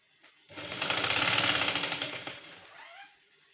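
A sewing machine runs a fast, even burst of stitching along a blouse sleeve for about two seconds, starting abruptly and tapering off, fairly close and alone.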